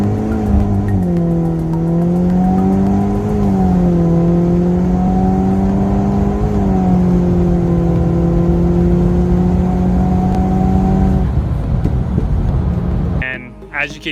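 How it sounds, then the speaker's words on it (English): All-wheel-drive car launching in first gear with its clutches slipping, a loud engine drone that holds a steady, wavering pitch instead of climbing, running close for about eleven seconds before cutting off into brief noise. "I'll show you a video of the car launching now."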